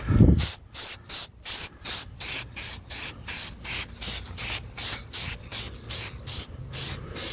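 A spray can puts a first coat of paint on Batman cups, giving a steady close hiss broken into rapid short bursts in a regular rhythm, with a brief low thump at the start and no talking.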